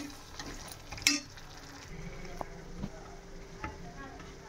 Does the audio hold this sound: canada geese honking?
no